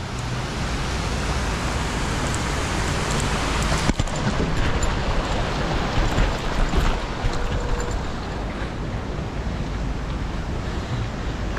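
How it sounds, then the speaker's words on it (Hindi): A waterfall in Mana village, a Himalayan mountain village, roars as a steady broadband rush of falling water, continuous and loud throughout with a brief bump partway through and no talking. "और माना गांव में झरना"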